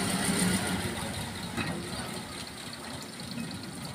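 A sugarcane lorry's engine idles while reversing in the early morning, a steady, moderately distant low rumble with no talking.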